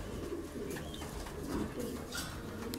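Soft, low cooing of pigeons repeats over a constant background murmur, fairly faint and close by.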